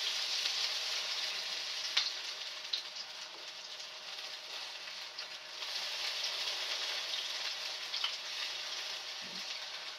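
Food sizzles and fries in a pan, a steady close crackling hiss with a few sharper pops, heard on its own without talk.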